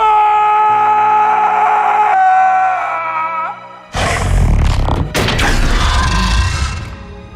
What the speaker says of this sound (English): Lee himself crying out in self-sacrifice, laying down his life to draw a Death Angel away from his children